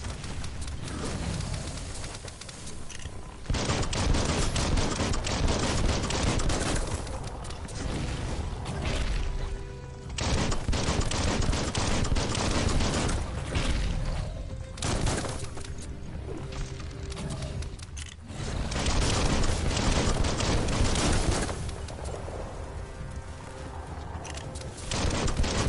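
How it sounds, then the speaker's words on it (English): Gunfire in the video game Biomutant: long, dense bursts of rapid shooting, each lasting several seconds, with brief quieter gaps between them and no talk. "Bullets everywhere."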